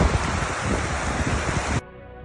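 Strong wind buffets the microphone on the Pen y Fan mountain, a loud continuous roaring rush that cuts off abruptly near the end.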